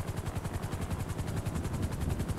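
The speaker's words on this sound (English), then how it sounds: "I hear the helicopter" A helicopter in a video game thumps overhead with a fast, steady rotor beat, loud and continuous throughout.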